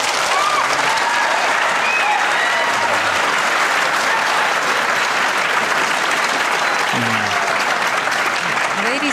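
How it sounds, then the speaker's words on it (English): Audience applause fills a 1985 gubernatorial debate hall, a dense, steady clapping that continues unbroken, with a voice speaking faintly beneath it. "I would appreciate it if you would not applaud"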